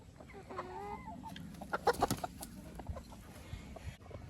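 Chickens cluck softly nearby, with a few sharper squawks in a short burst, over a quiet outdoor background.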